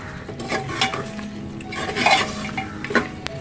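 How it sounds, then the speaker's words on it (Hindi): Mutton fried with spices on a high flame for a Hyderabadi salan gives a soft sizzle under repeated close scraping and stirring strokes of a spoon against the pan, with a few sharp metallic taps. "हाई फ्लेम पर हमें इसे 5 to 6 मिनट के लिए फिर से अच्छे से भूनना है।"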